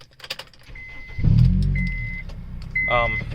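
A Honda Civic Si EP3 with its catalytic converter removed starts up close by: a short crank, then a deep rumble that settles into a steady idle.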